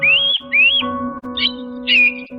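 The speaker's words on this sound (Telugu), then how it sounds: "మీనా పక్షి పిల్లలను కాపాడటానికి గ్రద్దతో పోరాడింది" A bird fights off an eagle in an animated story, giving rising whistled calls and chirps, loud and close, over a steady background tone, with no talk.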